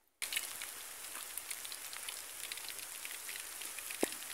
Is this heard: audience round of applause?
no